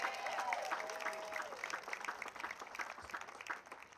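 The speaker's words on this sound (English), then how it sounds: "let's start off by giving that middle school band another round of applause" Indoor audience applauding a middle school band at a community domestic violence awareness event, a dense spread of clapping that gradually thins out.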